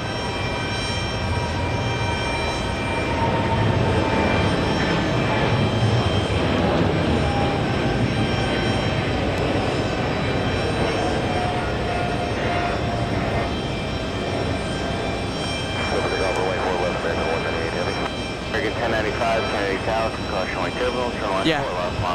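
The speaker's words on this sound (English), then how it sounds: "All right, there goes the 777. Out of here." A British Airways Boeing 777-300ER roars on takeoff at JFK Airport, a loud, sustained jet rumble with a whining tone that stays strong throughout while people talk over it.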